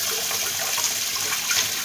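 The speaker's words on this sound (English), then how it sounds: "I'm going to be showing you how I wash my leeks." Leeks are rinsed under a running tap, a steady close splashing rush of water with no talk over it.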